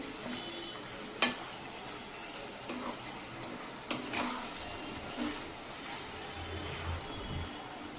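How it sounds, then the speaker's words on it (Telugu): Ginger garlic paste frying in hot oil for a half-kilo chicken curry, a steady soft sizzle with faint occasional utensil clicks and stirring knocks, no talking. "ఇప్పుడు ఈ ఆయిల్లోనే ఇది ఫ్రై అయిపోతుంది మనం అల్లం వెల్లుల్లి పేస్ట్ అనేది"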